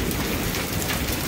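Hail mixed with rain pelts down during a severe storm, a dense, loud, unbroken clatter of countless small impacts on surfaces nearby, with no voices.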